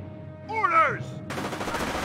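Thompson submachine gun fire in Company of Heroes during a WWII Normandy battle at St. Lo, a sustained loud burst of rapid shots that starts abruptly after a brief voice.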